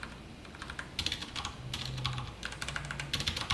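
Computer keyboard typing during a Python basics lesson on functions and return values, a run of quick irregular keystrokes clicking close and fairly quiet, with no talk over it.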